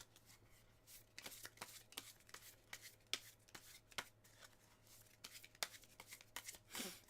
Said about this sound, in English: just gotta shuffle this.